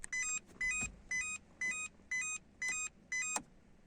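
Citroën C4 interior warning chime sounding with a door open and the headlights on: a repeating electronic two-tone beep pattern, seven evenly spaced bursts about half a second apart, clear and close.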